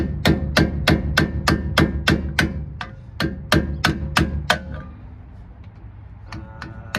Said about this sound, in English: let's try with this chisel. See if we can get that axle seal out of there.